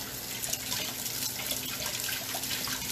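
Tap water runs steadily into a sink while a lemon is washed under it, a soft continuous splashing hiss with no talking.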